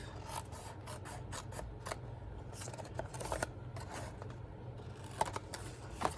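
Scissors snip through stamped paper cardstock for a Christmas box, with a series of quiet close cuts and crisp clicks over a low steady background, no talking.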